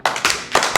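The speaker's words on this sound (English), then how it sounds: "Can I get a double clap, please?" Two sharp hand claps close by, one right after the other, repeated in a quick pair pattern, loud and clear with no talking.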